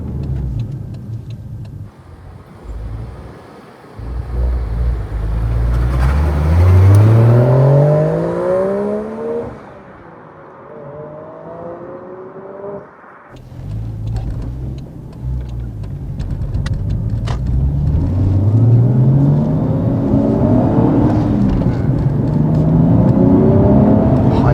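Toyota Chaser JZX100 Tourer V with a 1JZ-GTE engine and GP Sports muffler, loud and close, revving repeatedly with rising sweeps, easing off briefly, then building again into sustained high revs.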